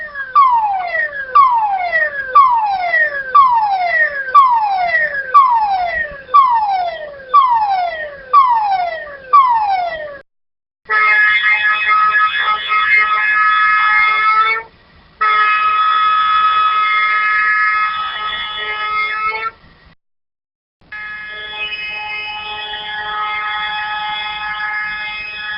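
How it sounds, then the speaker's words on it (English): An industrial emergency siren sounds a sequence of codes: first a rapid series of wailing falling sweeps, then long steady tones broken by brief silences, loud and alone. "In the case of an emergency, the following siren codes will be raised."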